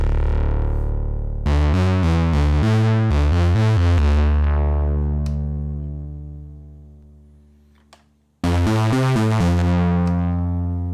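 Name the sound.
synthesizer with distortion effect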